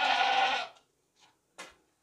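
A castrated sacrificial billy goat, large and clean, lets out one loud, close bleat, followed by two shorter, fainter cries with pauses between them.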